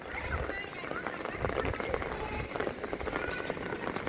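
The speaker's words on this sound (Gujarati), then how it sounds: "અરે હજી તો વરસાદ ચાલુ જ છે." Heavy rain pours steadily during a downpour in a village where river water is flooding homes and kitchens, a dense continuous hiss of falling water under nearby talking.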